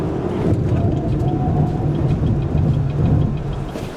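A Denza D9 EV electric MPV launching hard in sport mode, front- or all-wheel drive, with a steady loud road and cabin rumble throughout as it accelerates, and no separate engine note.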